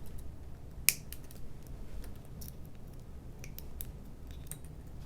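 A single crisp snip from cutters trimming the excess end of a zip tie on a Mighty Mini P40 SkyFx model plane, one short sharp click in an otherwise quiet room with a few faint ticks.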